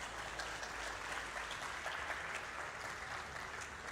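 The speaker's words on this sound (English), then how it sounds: "please give a big applause for Annabelle Williams" An audience claps for a speaker at a motivational talk, steady, fairly faint applause heard from a distance across the whole moment.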